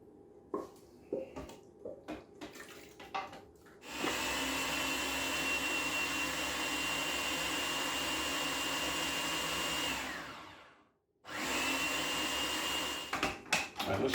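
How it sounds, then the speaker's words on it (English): A food processor blends bacon bourbon jam with a loud, steady whirring roar for several seconds, then stops briefly and starts again. Softer kitchen clatter comes before the motor starts. "We're going to go ahead and put this through the food processor now"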